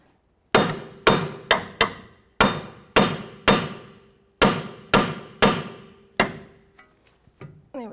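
A hammer taps the upper control arm nut on a 2008-2012 Jeep Liberty during front axle work, striking about a dozen sharp metallic blows in an uneven rhythm, close and loud, followed by faint light clinks.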